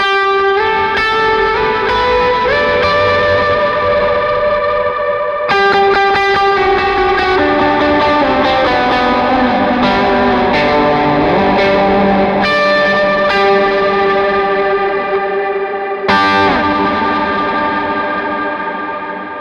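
An electric guitar plays a sustained, effects-laden lead through a tape-style delay, with repeating echoes trailing each note, loud and continuous with washy reverb throughout.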